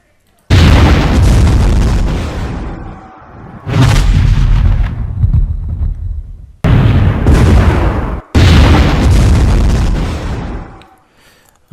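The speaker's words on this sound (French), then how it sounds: "nous allons apprendre à réaliser des explosions de ce type" Four loud booming explosion effects, each a sudden full-band burst that rumbles and fades over a couple of seconds, separated by brief gaps, with no talk over them.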